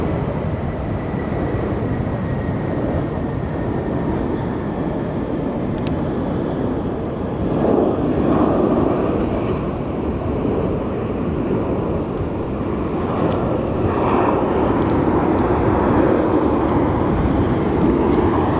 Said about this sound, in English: I love seeing planes land on that runway